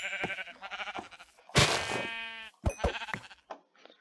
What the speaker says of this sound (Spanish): Ovejas negras.